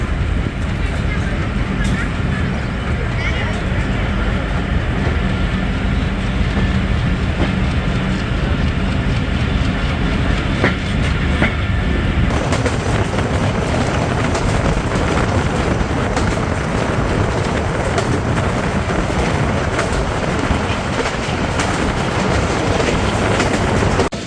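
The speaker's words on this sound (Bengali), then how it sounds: "ট্রেনটি অ্যাডভান্সে প্রবেশ করলেও তার নির্ধারিত সময় বারোটা বেজে চল্লিশ মিনিটেই কিন্তু নাচল রেলওয়ে স্টেশন ছেড়ে যাচ্ছে" A commuter train runs at speed on an old rural railway track between Rohanpur and Rajshahi after leaving Nachol station, giving a loud, continuous rumble with rattling clatter throughout.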